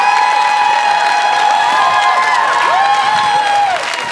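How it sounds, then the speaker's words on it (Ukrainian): Eurovision Song Contest 2016 first semi-final audience applauding and cheering in a large arena, a steady loud roar of crowd noise with whistles and tonal cheers throughout, no speech. "Аплодисменты!"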